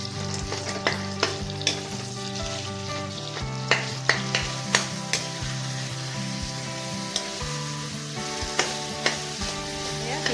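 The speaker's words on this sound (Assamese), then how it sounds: "এইখিনি ভালকৈ ফ্ৰাই কৰিব লাগিব।" Chicken sizzles and fries in a pan with a few chillies, a steady loud crackle punctuated by sharp stirring scrapes and clicks, with no talking.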